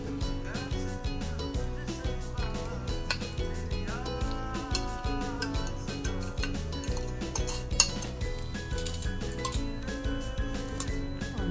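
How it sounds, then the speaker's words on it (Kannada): Banana being mixed by hand into beaten sugar batter in a bowl, with steady light clinks and scrapes of a utensil against the bowl under continuous background music. "ಈಗ ಆ ಬಾಳೆಹಣ್ಣನ್ನು ಮಿಕ್ಸ್ ಮಾಡಿಕೊಳ್ಬೇಕು"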